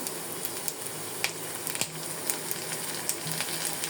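Onions with garlic paste fry in a pan for a fish curry, giving a steady, moderate sizzle with a few light clicks from stirring and no talk.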